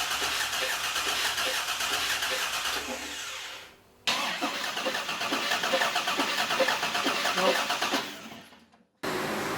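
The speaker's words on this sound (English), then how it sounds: "tried cranking the engine over and looking at the rev counter" A Holden VH with a swapped LS1 V8 engine cranks over repeatedly with a rhythmic starter whir, stopping briefly, then cranking again before cutting out; no voices.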